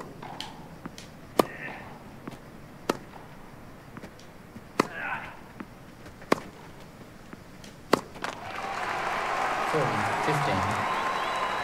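In the TopSpin 2K25 tennis video game, sharp ball strikes crack at intervals, then a loud burst of crowd cheering and applause swells and holds to the end.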